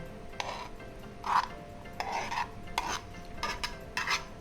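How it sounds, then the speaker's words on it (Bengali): Chopped tomato, capsicum and onion tumble into a bowl in a series of soft, close clattering bursts, several brief rustling spills spaced about half a second apart, with no voices. "বাটির মধ্যে আমি এগুলোকে প্রথমে ঢেলে নেব।"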